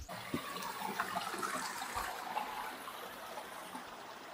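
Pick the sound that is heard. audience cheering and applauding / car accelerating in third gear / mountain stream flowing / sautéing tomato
mountain stream flowing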